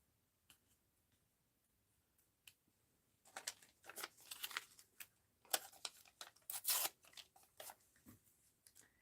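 Close, quiet snips and crisp rustling of paper being cut with scissors for an art journal, in short irregular bursts after a near-silent start.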